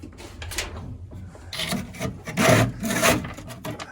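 Scraping frozen ice off a surface on a chilly day, heard as a series of close, rough rasping strokes that come in uneven bursts and grow louder toward the end.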